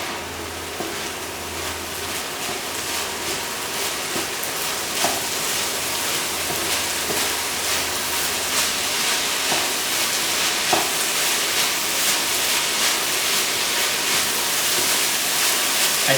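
Meat filling for Turkish pide, seasoned with sugar, frying over turned-up heat while being stirred in a hot pan, producing a continuous loud sizzle with scraping and stirring noises throughout.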